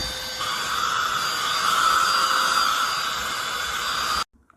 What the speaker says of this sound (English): test out this vacuum with the built-in LED light and the rechargeable battery on a variety of different surfaces